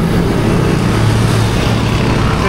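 Steady road traffic on a busy street near Antipolo, a continuous near rumble of passing vehicles with no clear pauses, heard alone.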